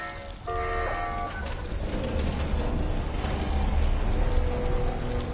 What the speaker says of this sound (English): I don't think this room is the one that's meant to flood.